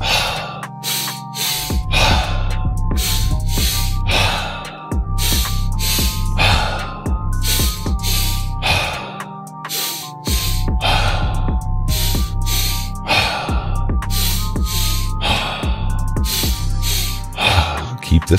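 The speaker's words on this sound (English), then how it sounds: "Back to our three-part breath, in through the nose, out through the mouth." Loud, close three-part breathing exercise, drawing air in through the nose and pushing it out through the mouth, in long rhythmic cycles of strong inhales and forceful exhales over a steady low musical drone.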